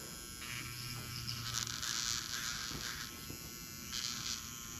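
Makartt electric nail drill spinning at 10,000 RPM, a thin steady high-pitched whir with brief louder grinding bursts as it presses into material, close and fairly quiet.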